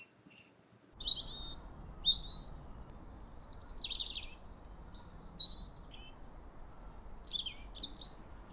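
Small songbird chirping and trilling in a quick run of varied high phrases, clear and fairly close after a brief quiet start, with no voices.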